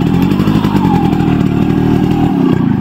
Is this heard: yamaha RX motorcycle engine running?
yes